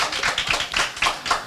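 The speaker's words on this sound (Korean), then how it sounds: "네, 박수." A small audience at a live author talk show claps briefly, with a few distinct, sharp hand claps in an uneven rhythm, close and fairly clear.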